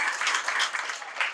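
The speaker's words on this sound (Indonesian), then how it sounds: "Tepuk tangan untuk ibu-ibu ini" Brief burst of audience clapping for a group of women hadroh performers at an Indonesian arts event, a short, fairly soft patter of many hands lasting just over a second.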